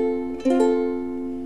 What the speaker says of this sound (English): And the second chord is F.